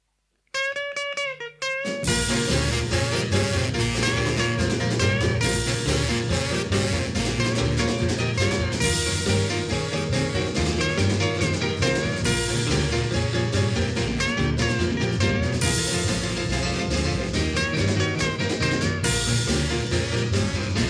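An upbeat rock and roll recording plays loudly and continuously with driving drums, guitar and vocals, after a brief few notes at the start.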